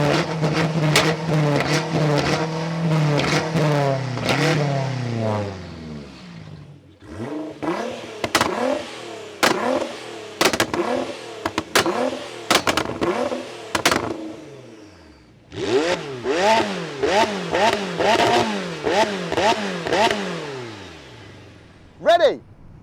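An 840 hp BMW M5, an 860 hp Nissan GTR and a McLaren 720S take turns revving hard, loud engine rises and falls with sharp pops and crackles between pulls, close by, with some talk mixed in.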